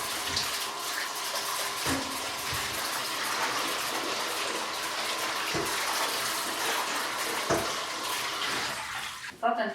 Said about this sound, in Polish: Teraz bardzo starannie trzeba je wypłukać pod bieżącą ciepłą wodą